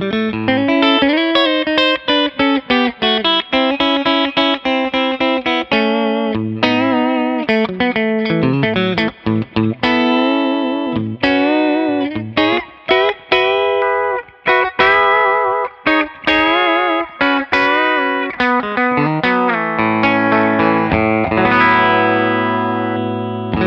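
An overdriven electric guitar on its middle pickup position, Brierley B90 pickups through a Magnatone amp, plays a long run of notes and chords with a warm, gritty distortion, loud and unaccompanied, ending on a sustained chord.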